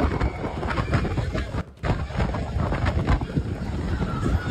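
Strong wind during a heavy rainstorm with flooding roars and buffets the microphone in heavy gusts, with a brief lull partway through before the blustering resumes.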